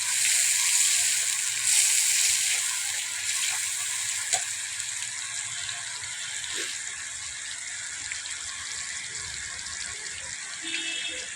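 Moringa leaves frying in a pan over a firewood stove, a steady soft sizzle with faint stirring and scraping running throughout at moderate loudness.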